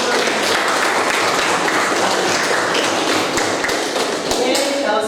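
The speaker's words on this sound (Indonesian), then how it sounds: "Beri tepuk tangan untuk teman" Classroom applause for a student, a dense, steady patter of many hands clapping close by, with some louder thumps and taps mixed in, continuing evenly throughout.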